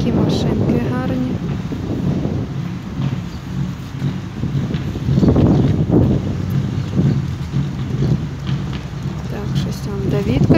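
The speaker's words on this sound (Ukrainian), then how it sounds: "бо вітер сильний у нас, погода не дуже" Strong wind buffets the microphone at an outdoor race car exhibition in Poland, a steady low rumbling roar running through the whole stretch with gusts, while people talk faintly in the background.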